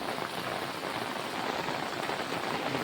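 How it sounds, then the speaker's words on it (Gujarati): Heavy monsoon rain pours onto farmland in a dense, steady hiss of drops striking surfaces, loud and unbroken, with water running and no voices. "જબરદસ્ત વરસાદ છે અમારા"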